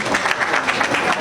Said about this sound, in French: On applaudit nos jeunes acteurs s'il vous plaît